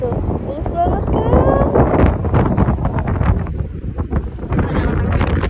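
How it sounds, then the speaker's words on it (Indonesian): Strong wind buffeting the microphone on the Mount Rinjani hiking trail, loud continuous gusty roar throughout, with someone talking over it. "Angin dari kemarin malam."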